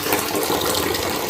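Tap water gushes steadily into a bucket or 5-litre plastic bottles during an outage after a hurricane, a continuous close, fairly loud splashing fill with no talking.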